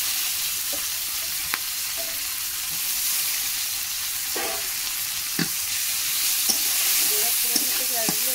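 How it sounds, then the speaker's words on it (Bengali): Chopped onions fry with crabs in a pan, a steady close sizzle broken by occasional scrapes and taps of a spoon stirring the mix. "পেঁয়াজগুলো আমি ভালো করে ভেজে নেব।"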